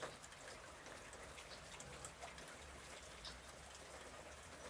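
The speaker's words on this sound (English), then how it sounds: "Here I can hear it trickling down the gutters, but I can also hear it in the distance as it hits all the leaves" Rain trickles down gutters and patters on leaves in the distance, forming a faint, even hiss with soft scattered drops and no voices.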